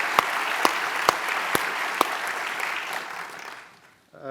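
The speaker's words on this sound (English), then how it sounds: "Please join me in giving a round of applause to our panelists." An audience at a business school anniversary event applauds its panelists with a steady wash of clapping, a few close sharp claps standing out early, before the applause fades to near silence.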